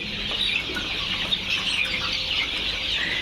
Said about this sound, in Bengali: এই যে দেখুন ফার্মি মুরগির বাচ্চা